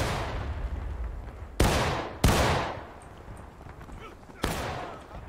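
Musket shots in the video game War of Rights during a Harpers Ferry skirmish: three sharp, loud reports with long echoing tails, spaced irregularly over a rumbling battlefield backdrop.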